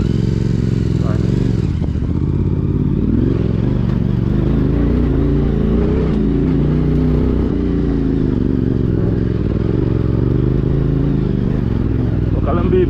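CFMOTO 450MT motorcycle engine held on throttle while climbing a dry uphill trail in Kibungan, Benguet, a steady loud mid-range drone with shifting pitch throughout, mixed with wind and road clatter, with a rider's voice heard over it.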